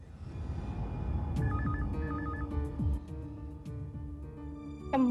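A telephone rings in a crime drama scene, giving two quick bursts of a warbling electronic trill over a low background murmur.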